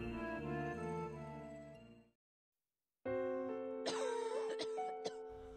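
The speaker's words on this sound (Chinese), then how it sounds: "这几天我又开始咳嗽了，而且咳得很严重" Harsh coughing from a person with a severe cough, several sharp bursts close up, heard over a sustained musical background that cuts out briefly before returning.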